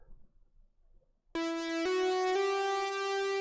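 After quiet room noise, a bright, dry Diva synth lead enters and holds loud sustained notes with a buzzy, harmonic-rich tone, stepping through a few pitches without any effects.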